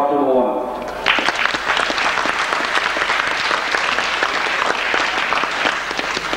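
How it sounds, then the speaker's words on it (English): Crowd applause for the teams after a 1999 under-16 football league final between Cavan Gaels and Mullahorn, breaking out after a brief voice and holding as dense, steady clapping from many hands at a fair distance. "Let's give them a round of applause, number one."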